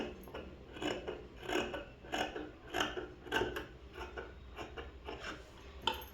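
Scissors snip through cloth for a government school uniform, a steady series of short close rasping cuts about every half second, with no voices.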